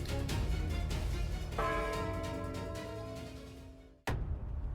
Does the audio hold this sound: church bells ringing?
yes